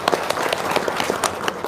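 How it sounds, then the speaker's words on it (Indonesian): Audience at a seminar gathering gives a round of applause, moderately loud scattered clapping from many hands over a soft crowd background, continuing evenly for under two seconds. "Wow, tepuk tangan dong."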